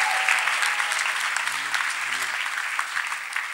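Sustained applause from a church congregation at a testimony service, steady and dense throughout, with a voice briefly calling out over the clapping midway.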